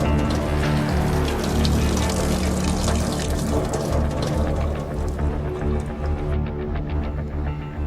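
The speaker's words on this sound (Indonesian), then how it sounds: "Siapa yang buka keran?" Tap water running steadily in a home, a continuous broadband hiss and splash that stays loud and even throughout, with no voices over it.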